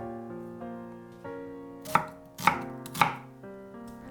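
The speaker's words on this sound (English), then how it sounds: "Cut 2 onions into chunks." Knife chopping onions into chunks on a cutting board, three sharp distinct chops close together over quiet background music.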